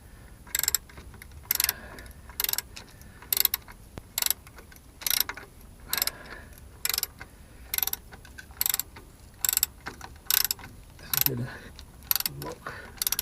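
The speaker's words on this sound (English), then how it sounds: "I'm just tightening the two bolts, one there and where the socket set is." A ratchet socket set tightens engine mount bolts on a Talbot Express Autosleeper motorhome, giving quick bursts of fine ratcheting clicks that repeat steadily, close and fairly quiet.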